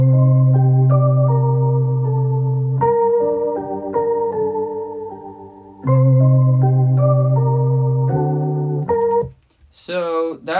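Sample-based beat for a song, with sustained layered tones and plucky melodic notes repeating in a looping two-bar phrase, ending abruptly as a voice briefly cuts in.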